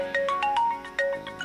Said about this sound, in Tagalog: Nagri-ring ang cellphone ko.